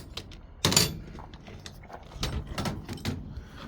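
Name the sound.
loosening a motorcycle wheel nut with a metric wrench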